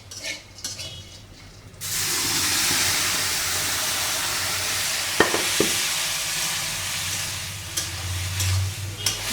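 Bori fried in a pan with papaya and bottle gourd gives off a loud, steady sizzle that begins suddenly and carries on without a break. A couple of sharp clinks of a utensil against the pan stand out near the middle.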